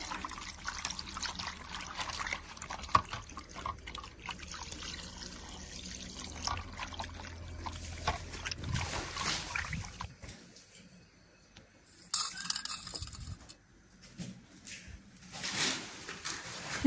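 Sardines are washed in water, with small pours, trickles and splashes that come in uneven bursts, some louder sloshing near the end, and quiet gaps in between.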